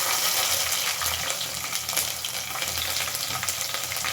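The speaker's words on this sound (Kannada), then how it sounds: "ಇವಾಗ ಒಣಮೆಣಸಿನ್ಕಾಯಿ ಹಾಕ್ತಾಯಿದ್ದೀನಿ. ಮತ್ತು ಹಾಗೆ ಬೆಳ್ಳುಳ್ಳಿ ಕೂಡ ಹಾಕ್ತಾಯಿದ್ದೀನಿ." Dried red chillies and garlic frying in hot oil for puliyogare, a steady, dense sizzle and crackle that stays loud and close throughout with no voices.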